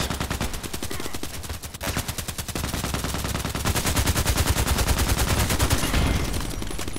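Rapid, continuous gunfire in a shooter video game on the Old Sawmill map, sniper rifle shots among sustained automatic bursts, loud and close throughout with dense overlapping reports.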